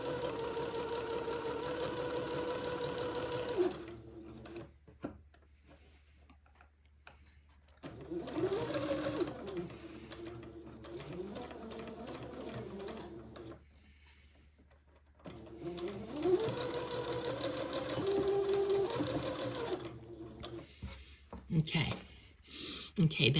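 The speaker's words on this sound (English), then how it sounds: "when I get to the sleeve, I'm going to go forward and back and tack it into place" A sewing machine runs in bursts as it stitches forward and back to tack a seam at a baby bubble romper's sleeve, with a mechanical whirring that stops and restarts and short quiet gaps between runs.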